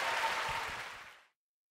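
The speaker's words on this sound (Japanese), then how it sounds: "拍手" A concert audience in a hall claps in a full, dense burst of applause that fades out and cuts to silence after about a second.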